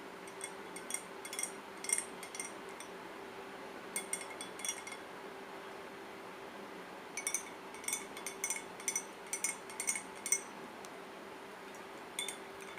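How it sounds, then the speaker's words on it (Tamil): A spoon stirs hibiscus tea in a glass, making light, bright clinks in irregular bursts separated by short pauses, over a faint steady hum. "கொஞ்சம் மிக்ஸ் பண்ணிக்கோங்க லைட்டாக."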